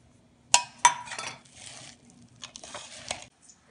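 Grated nutmeg stirred into boondi laddoo mixture in a bowl: two sharp clinks of a utensil, then softer intermittent scraping and stirring, close and fairly quiet, with no voices.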